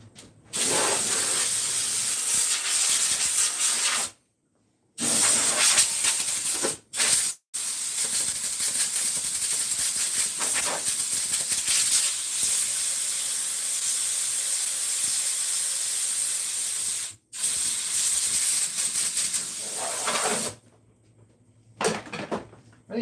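Compressed air hisses loudly and steadily from an air nozzle in a woodturning shop, in long continuous bursts broken by a few brief pauses and a short quiet gap near the end.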